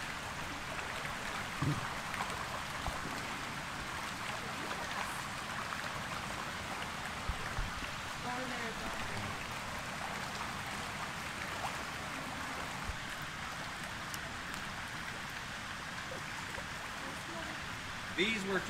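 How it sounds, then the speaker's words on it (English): Hatchery fish at the A E Wood State Fish Hatchery in San Marcos, Texas, thrash at the water surface after feeding, a steady churning splash like boiling water that runs continuously and evenly throughout. "He just fed the fish, so now it's like boiling water."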